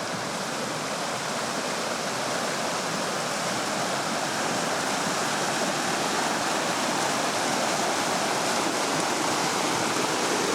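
A creek running high after rain, its flow a loud, dense, unbroken rush close by, with no voices over it.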